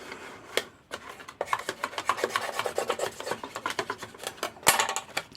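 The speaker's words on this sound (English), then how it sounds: "make sure I just give it a nice good burnish to spread that glue out" Folded paper box being burnished to spread glue, a close, dry rubbing and rasping in quick repeated strokes that speed up into a dense run of scrapes.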